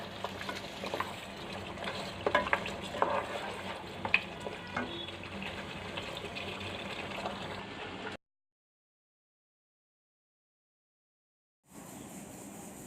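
Goat trotters fry with spices in a pan, a close, even sizzle broken by a few stirring clatters. A stretch of dead silence follows before the sizzle returns briefly, with no talking.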